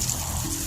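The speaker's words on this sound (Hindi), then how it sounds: "फिर उसके बाथरूम में से पानी गिरने की आवाज़ आती है।" Water pours steadily from an open tap into a bucket in a bathroom, a continuous close splashing trickle with no voices over it.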